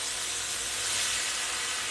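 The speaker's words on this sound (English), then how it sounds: "A little more steam." Water poured into a very hot pan produces a constant, loud, close hiss of steam that holds evenly throughout with no other sounds.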